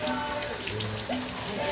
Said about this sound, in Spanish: estamos transmitiendo un poco de la lluvia por acá desde Bacobampo, Sonora